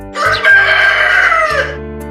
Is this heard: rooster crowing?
yes